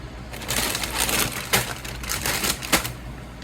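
Trusty kitchen scissors snip through food in a home kitchen, giving a run of crisp, close cutting clicks and crunches with a couple of sharper snips standing out near the end.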